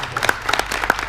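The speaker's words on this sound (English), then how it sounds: "a big round of applause for our panelists" An audience gives a round of applause for conference panelists: scattered, fairly close claps patter irregularly throughout, with a light crowd murmur beneath.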